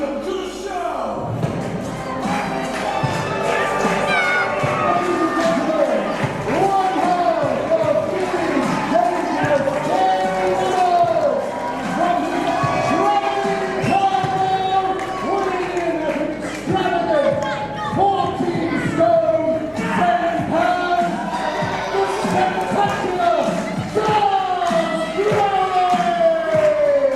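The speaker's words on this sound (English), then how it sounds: "listen to the crowd here in Lordswood" Wrestling fans at a UKPW show in Lordswood roar and cheer continuously throughout, a loud, dense crowd din with shouts rising above it and voices talking in the mix.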